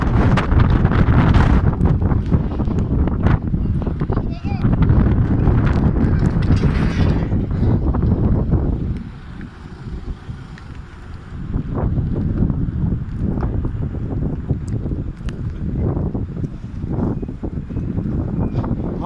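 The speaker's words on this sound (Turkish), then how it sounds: "Rüzgar yürüyor Lodos'tan." A strong Lodos windstorm sweeps through an Istanbul street. Heavy, roaring wind buffets the microphone almost without a break, with rustling and clattering debris and a short calmer dip midway.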